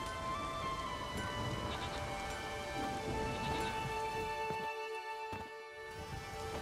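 Rain falling in The Witcher 3, a steady, close hiss of drops on surfaces with faint tonal game ambience underneath and a couple of brief louder spatters.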